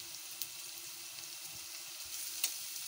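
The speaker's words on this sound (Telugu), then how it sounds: "పసుపు, కారం, సాల్ట్ వేసి బాగా కలపాలి" Onions frying in oil with turmeric, chili powder and salt, a steady close sizzle with occasional soft scrapes of stirring, no voices.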